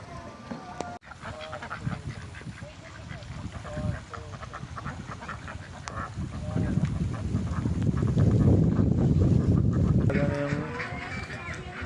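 A flock of ducks quacks and honks repeatedly, growing louder and busier toward the middle, with people talking in Filipino in the background.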